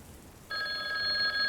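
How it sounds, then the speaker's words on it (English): A telephone starts ringing partway through, a bright, steady electronic trill that carries on to the end over a quiet, hissing background. "The phone continues to ring."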